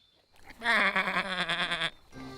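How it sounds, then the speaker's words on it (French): A cartoon sheep gives one long, loud, wavering bleat lasting over a second, clear and close, with no talking over it. "Voici les moutons."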